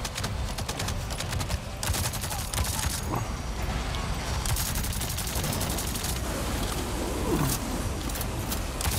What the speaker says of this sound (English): Who's that shooting me now?